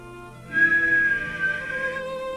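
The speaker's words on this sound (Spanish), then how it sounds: "Era un silbido fino, frío y triste" A thin, cold, mournful whistle holds a single sustained tone for about a second and a half over a soft background drone, alone with no talking.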